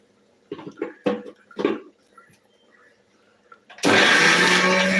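After a few knocks and clatters, a mixer grinder grinding small onions starts up abruptly and runs at a loud, steady whir until the end.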